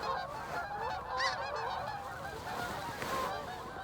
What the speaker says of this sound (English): These snow geese are maybe 40, maybe 30.